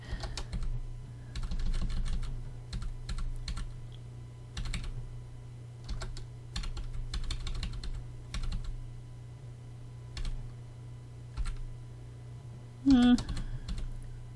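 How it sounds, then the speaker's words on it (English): Intermittent typing on a computer keyboard, with bursts and single key clicks spread across the clip over a low steady hum, and a brief tonal blip near the end. "when I hit the T on the keyboard"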